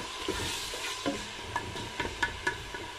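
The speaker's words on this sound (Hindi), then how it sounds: "तो हम इसको हल्का सा ब्राउन करेंगे प्याज को।" Chopped onion frying in a pan as it turns light brown for makhani daal: a steady close sizzle with spoon-stirring clicks and scrapes, no voices.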